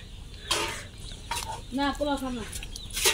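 A rooster's clucking calls ring out near and clear, a few short bursts with a brief rolling cackle amid background voices.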